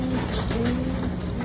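Racing pigeons cooing at a loft during a race-day return, soft low coos drifting over a steady hiss of background noise, faint and distant over a brief moment.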